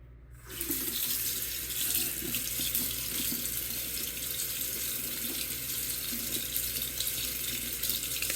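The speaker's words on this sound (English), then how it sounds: "you want to make sure that you do a really good job of rinsing all of the soap out of your lash" A kitchen tap runs steadily over soapy false eyelashes to rinse them, a loud continuous splashing gush that starts after a brief silent moment and holds without pause.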